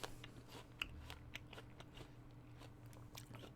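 Crisp bites and crunchy chewing of a Green Dragon apple, a series of close, quiet crunches spread over a few seconds against a low background hum, with no talking.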